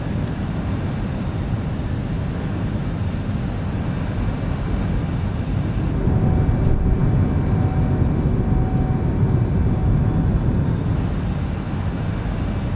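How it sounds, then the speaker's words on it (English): Steady, heavy airflow roar inside a Fenix A320 cockpit in Microsoft Flight Simulator on approach to Wellington, New Zealand, with a slight surge in rumble partway through as the landing gear and flaps extend; no talking. "Go ahead and throw our landing gear down and get us down to our approach speed of 137."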